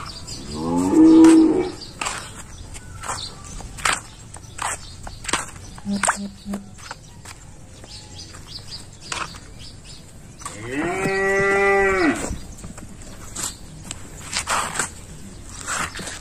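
Cream-colored French bulls low on a farm: one loud, close moo near the start and a longer one later, with quieter rustling, footsteps and faint talk between them.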